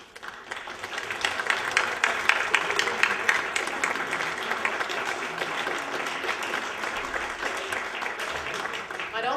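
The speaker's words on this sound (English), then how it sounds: "please stand so that we can give you a round of applause" An audience at a university symposium applauds its presenters. Dense, loud clapping builds quickly and holds steady for several seconds, with some crowd voices mixed in.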